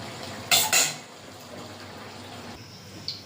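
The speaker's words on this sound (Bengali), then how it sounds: "কড়াইটা ধুয়ে বসিয়ে দিয়েছি" Water splashes and rinses in a kadai (wok) being washed in a home kitchen, two short loud bursts near the start followed by quiet background and a faint clink near the end.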